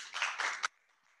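A small seminar audience gives a brief, faint burst of clapping that lasts well under a second and then stops abruptly into near silence.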